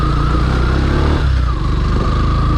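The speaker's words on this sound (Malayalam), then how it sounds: "ബൈക്ക് ഓഫ് റോഡ് കൊണ്ടുപോകാം." A Yamaha FZ V3 BS6 motorcycle engine runs loud and close while riding off-road, a steady throbbing drone with a brief throttle dip and recovery partway through.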